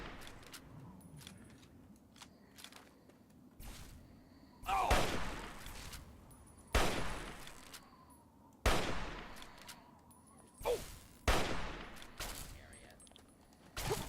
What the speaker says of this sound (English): Why are you shooting at me, robot?